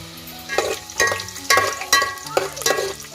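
Garlic sizzles in hot oil for a tempering, with bursts of frying crackle rising and falling as it is stirred in short, repeated strokes.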